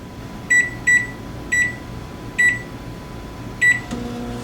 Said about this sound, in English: put it in the microwave, and see how it turns out